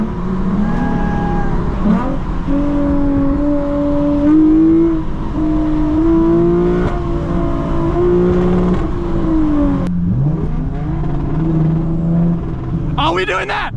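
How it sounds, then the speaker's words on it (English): A Mazda RX-7 on a highway car rally, its engine droning and climbing through revs as it accelerates, loud and close from inside, with excited voices talking over it. "Hop in with this RX-7."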